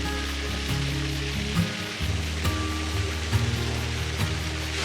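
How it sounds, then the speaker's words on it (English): A small waterfall in the Mindo cloud forest gives off a steady, close, hissing rush of falling water, unbroken and without voices. "I think this is a bonus waterfall."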